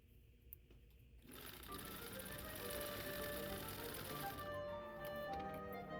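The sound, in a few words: sewing machine sewing a skirt pocket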